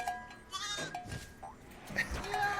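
A sheep bleats repeatedly in the Spyro the Dragon: Reignited video game, several wavering cries overlapping game music and effects at moderate loudness.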